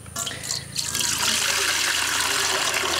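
Water is poured over wheat grains being washed to float off the husk, a steady full splashing and trickling that swells after the first second and runs continuously to the end.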